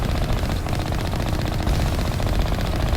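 Continuous rapid gunfire in the Mass Effect Legendary Edition game as turrets are shot at, a dense steady barrage with no pauses, loud and close throughout.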